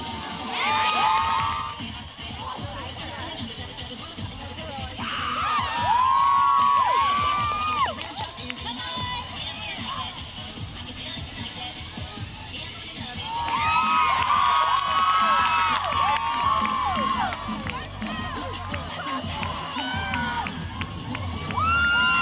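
A high school cheer team cheering and shouting in loud, overlapping bursts of young voices, with whoops rising and falling across a steady crowd din.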